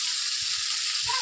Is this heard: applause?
no